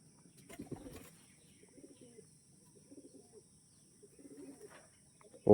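Andhra pigeons coo softly in a loft, with several low, rolling coos repeating at intervals, a brief flutter of wings early on and a sharp loud knock at the very end.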